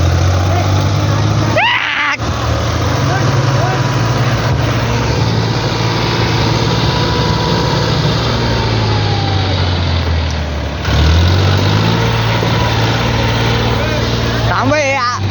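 A Mahindra 575 DI tractor engine runs steadily at a close, loud, low drone throughout, with a brief dip in the middle and faint voices over it.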